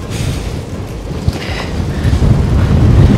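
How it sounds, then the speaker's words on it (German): Steady, loud wind buffeting the microphone outdoors, a continuous rumbling roar with gusts building toward the end, no voices. "Es ist ein bisschen windig"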